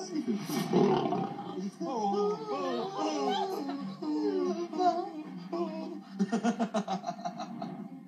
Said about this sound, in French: c'est quand même impressionnant d'aller dans la cage aux lions, d'être avec les lions